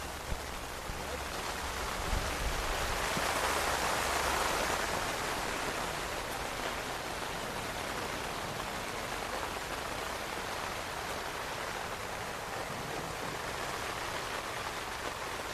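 Heavy rain pours steadily over an outdoor rugby pitch during a youth 10s championship match, a dense, continuous hiss that stays loud and even throughout with no other clear sounds.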